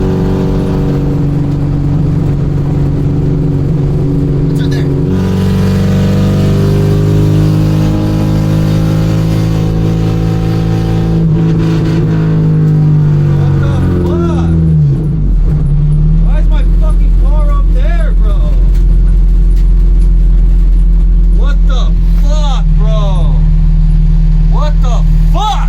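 A car driving on a freeway recorded on a phone, a loud constant road and engine rumble with shifting tones as the speed changes, and people talking over it.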